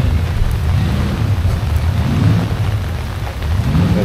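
Rain at an outdoor classic car show from the fifties era, a steady loud wash of falling drops and patter on surfaces throughout, with no talk.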